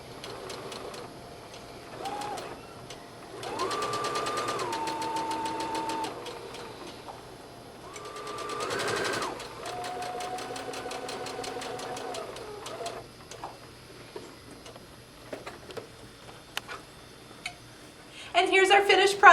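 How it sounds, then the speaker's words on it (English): A sewing machine straight-stitches around the folded hem of a colonial costume skirt in several short runs of needle whirring between pauses, with a voice speaking over parts of it. "we're going to follow with a straight stitch this fold that we created all the way around"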